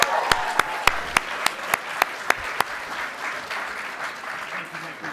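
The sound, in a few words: audience applause at keynote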